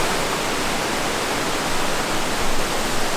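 A waterfall in Oregon roars as a loud, steady broadband rush of falling water, close and continuous, with no voices.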